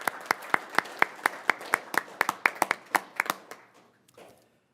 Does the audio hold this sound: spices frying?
no